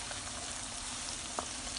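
Half a large onion stirred in hot oil over medium-high heat, a soft, even sizzle and faint hiss with one brief clink of a utensil, close but fairly quiet.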